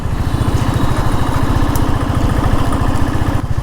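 A motorcycle engine runs steadily up close, a loud, even low-pitched putter with fast regular pulses and no voices over it.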